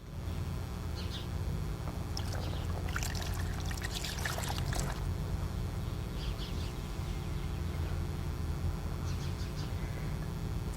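Water poured from a pitcher into a bucket during a Montessori scrubbing lesson, a bright splashing trickle that swells for a few seconds and then tapers into faint drips over a low steady background hum.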